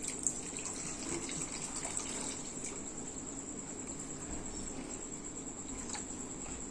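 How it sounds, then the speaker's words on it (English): Water is poured into a simmering pav bhaji mixture, giving a steady trickling, bubbling wash of sound that holds at an even level throughout. "So now I am adding here water"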